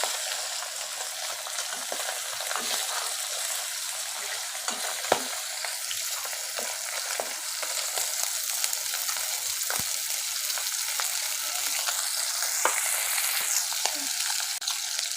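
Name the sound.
pabda fish frying in mustard oil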